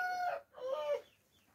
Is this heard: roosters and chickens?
yes